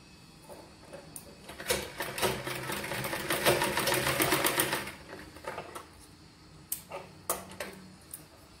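A home sewing machine stitches a girl's frock in one loud, fast burst of about three seconds, followed by a few short stop-start runs of needle chatter near the end.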